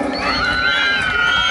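Cheering and shouting from a crowd at a jaripeo in Rancho Viejo, San Miguel de Allende, with loud overlapping voices and whoops sustained through the short burst.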